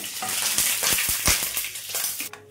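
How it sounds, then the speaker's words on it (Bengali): Panch phoron spices frying in hot oil with bay leaves in a pan, giving a loud close crackling sizzle with sharp popping bursts that cuts off abruptly at the end. "এবার দেব 5 ফোড়ন 1 চামচ। এটাকে ভালোভাবে ভেজে নিতে হবে।"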